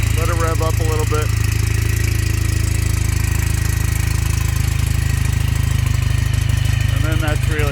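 Ural Patrol motorcycle with a cold engine and a little choke, started by kick, revving steadily with a loud mid-pitched rumble, a voice speaking briefly at the start and end.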